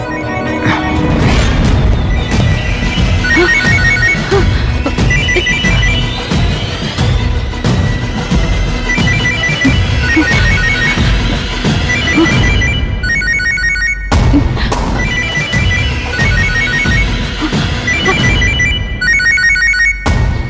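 A telephone bell rings repeatedly and loudly over a dense bed of dramatic music and crashing effects in a Tamil TV serial scene, with a brief break partway through before the ringing returns.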